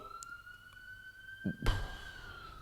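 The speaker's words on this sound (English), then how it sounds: "There is a siren going off." A distant emergency siren wails steadily in the background, faint and continuous, with a brief thump of nearby handling noise partway through.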